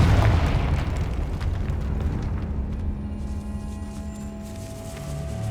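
The Confringo fire spell blasts in the video game Hogwarts Legacy, opening with a heavy, booming explosion that slowly decays into a low rumbling tail.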